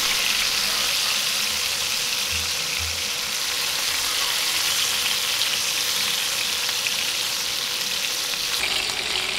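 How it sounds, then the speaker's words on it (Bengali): Fish pieces fry in oil in a pan, turned to cook the second side, giving a loud, continuous hiss and crackle that holds steady throughout. "এখন উল্টে দিয়ে অন্য পাশও ভেজে নিব।"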